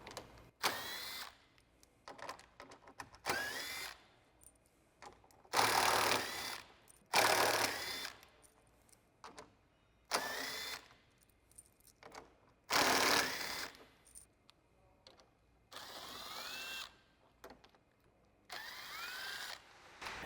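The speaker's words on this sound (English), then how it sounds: "I'm just going to use a 7mm socket to get those out" A power driver with a 7mm socket removes screws from the front bumper of a 2015-2017 Ford Mustang, whirring in about eight short bursts separated by quiet pauses, close and clear.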